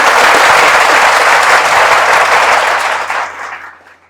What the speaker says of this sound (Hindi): एक बार सर के लिए जोरदार तालियां हो जाएं